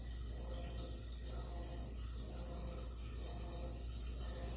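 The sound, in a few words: filling pot with filtered water from tap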